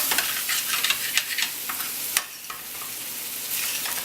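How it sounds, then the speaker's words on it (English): Wine splashes into a hot pan to deglaze it while cooking chicken marsala, giving a loud, close hiss and sizzle with a few sharp spatters and scrapes that settles into a quieter bubbling. "When we add our wine, we're also deglazing the bottom of our dish, which is what we want."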